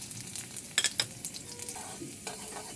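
Chopped green chilli, garlic and ginger sizzle in hot mustard oil in a heated wok, with a steady frying hiss, a few sharp spatula clinks and stirring scrapes, fairly soft and close.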